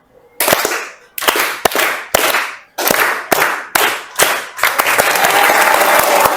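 A class of students claps together in a rhythmic patterned cheer during an art lesson, sharp synchronized bursts in groups separated by short pauses, ending in a looser stretch of continuous applause with voices.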